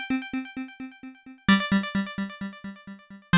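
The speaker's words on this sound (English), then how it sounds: "Tempong is a stereo tempo delay which has different patterns." A bright synth note repeats in quick echoing pulses from a stereo ping-pong tempo delay, bouncing left and right as they decay, then a louder hit starts another trail of bouncing repeats, with no voices.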